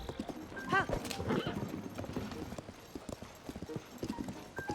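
Horse hooves clip-clopping in Tears of the Kingdom, a steady run of quick hoofbeats with a short whinny near the start, heard under game sounds at moderate level.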